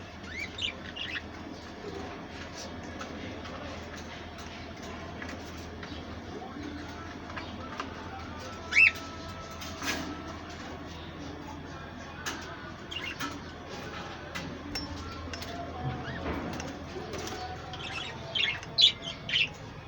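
Small birds on a balcony where eggs have been set out as food, chirping and tweeting in scattered calls with a few louder squawks, close by over steady background noise.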